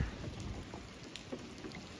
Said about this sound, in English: You can probably hear the rain actually.